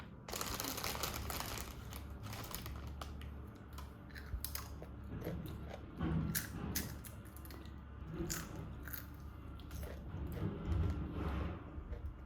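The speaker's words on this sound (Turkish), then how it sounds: "Dido'yu açıp birazcık ısırabilirsin" Close, quiet crinkling of a wrapper comes first, then someone bites into a Dido chocolate bar and chews. The soft crunching and squishy mouth sounds run for several seconds without talk.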